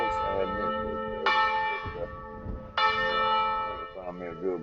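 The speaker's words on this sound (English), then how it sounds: "I think I found me a good bell." Church bell on a roof ringing loud and close, two strong strikes with long, shimmering ringing tails, while a voice talks beneath it.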